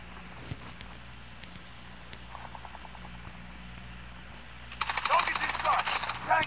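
Gunfire in the mobile shooter Call of Duty Mobile breaks out as a dense, rapid burst near the end, after a quiet stretch of faint game ambience.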